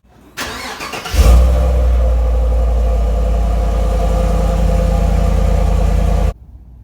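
A 2018 GMC Sierra 4x4 pickup with a 5.3 liter V8 cranks briefly, fires up loudly and settles into a steady close idle before shutting off abruptly.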